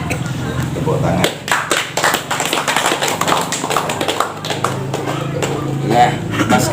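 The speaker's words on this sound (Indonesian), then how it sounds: "Tepuk tangan." An audience at a live traditional Javanese performance breaks into irregular clapping over music and voices, loud and close.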